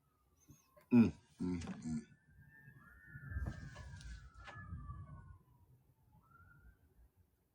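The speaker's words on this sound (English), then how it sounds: "Sirens like a motherfucker." A distant police siren wails in rising and falling sweeps while people talk nearby over it.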